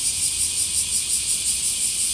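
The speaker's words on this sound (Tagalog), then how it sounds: "kung maririnig nyo na naguhunihan na po yung mga kuliglig" Crickets chirp at night outside a convenience store, a dense, steady high-pitched trill with slight pulsing that continues without a break and is heard alone and fairly loud.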